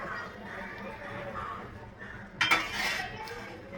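A metal lid is set onto a pot of prawn masala, giving a short clatter of metal contact after a stretch of quiet kitchen background.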